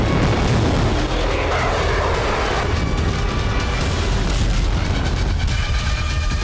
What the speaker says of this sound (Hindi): रूसी एयरफोर्स आसमान से जबरदस्त बमबारी कर रही है